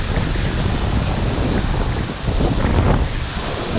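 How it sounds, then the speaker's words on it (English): Steady wind blowing at Hazards Beach, a broad continuous rushing roar with gusts buffeting the microphone and faint surf mixed in, with no voices. "It's a little bit breezy, but not too bad."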